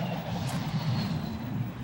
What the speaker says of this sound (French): C'est un avion.